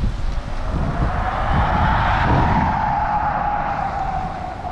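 An Audi e-tron electric car drives past with a continuous broad whoosh of road and wind noise and a faint steady whine underneath, loud and close throughout.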